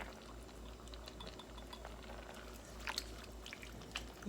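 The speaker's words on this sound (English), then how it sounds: "we're gonna just put the tomato sauce and we're almost done" Tomato sauce being poured into a pan of chicken afritada, a faint wet glugging and sizzling with scattered small clicks, quiet and close, no talking.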